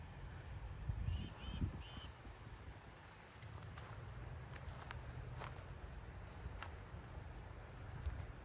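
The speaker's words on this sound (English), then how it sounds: "local birds." Crows caw a few times from a short distance in a quiet, well-kept cemetery on Merritt Island, Florida, brief harsh calls over a low outdoor rumble, with soft rustling steps in between.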